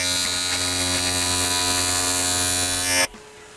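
A TIG welder arc burns steadily while welding into a corner, a constant electric hum and buzz that holds for about three seconds, then cuts off abruptly.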